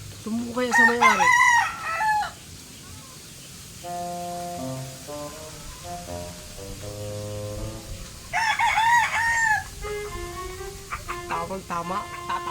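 Roosters and chickens give loud, close crows near the start and again later, with clucks and softer calls in between and a person talking in the gaps.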